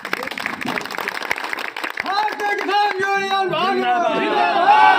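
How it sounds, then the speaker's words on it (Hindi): Crowd clapping to welcome a national party president at a political rally, brief scattered claps under loud speech, then chanting voices swell over the noise. "ऐसे हमारे माननीय राष्ट्रीय अध्यक्ष जी का जोरदार ताली स्वागत"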